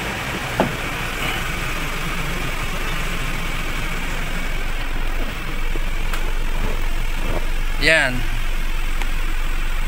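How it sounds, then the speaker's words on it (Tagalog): Roadside traffic rumbles continuously, with steady engine noise from passing and idling vehicles, while someone talks over it and a brief squeal cuts through near the end. "maingay dito dahil lang tayo tabing kalsada"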